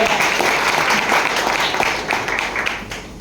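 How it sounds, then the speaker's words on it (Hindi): An audience breaks into dense, loud applause, many hands clapping together in a sustained burst that fades slightly toward the end. "इसके लिए भी एक बार जोरदार ताली हो"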